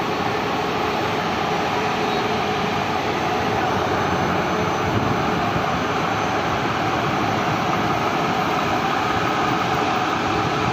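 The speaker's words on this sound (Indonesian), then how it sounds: "Ini mesinnya lagi dipanasin." The engine of a Scania K450 CB double-decker coach warms up, a loud, steady rumbling drone that holds unbroken from start to finish, with no talking.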